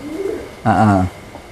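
Racing pigeon cooing at close range: a single loud, throaty coo with a low warbling tone, preceded by softer background murmur.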